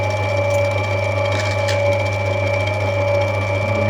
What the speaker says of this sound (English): Might Dremel a bit to see what happens there.